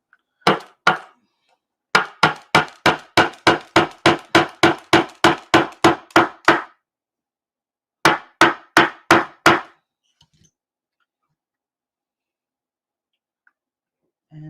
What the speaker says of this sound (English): hopefully I can hold it in place with these while I hammer it